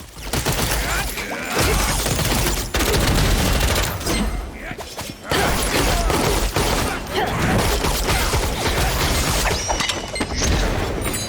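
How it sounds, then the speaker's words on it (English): Gunslinger class gunfire from the video game Lost Ark, a dense, loud barrage of crisp cracking shots and booming impacts that runs almost continuously, with only a brief lull partway through. "firing the guns from the gunslinger, they just have that nice, crisp, crack gun sound"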